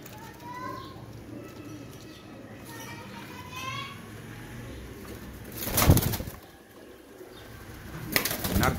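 Ali Wala pigeons, a breeder pair kept with their young, coo softly in low repeated calls amid a steady outdoor bustle, with a sudden burst of wing flapping near the end.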